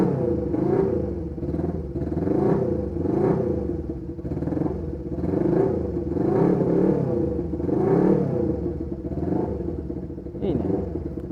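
A Honda CB125T motorcycle with a loud muffler running close by, its engine rumbling and clattering in repeated rhythmic revs over about eleven seconds.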